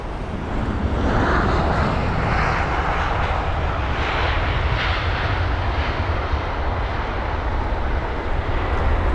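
A KLM Boeing 737-800 airliner from Amsterdam passes overhead near Heathrow, a loud, steady jet roar that swells in and holds through the whole stretch with a broad rushing tone.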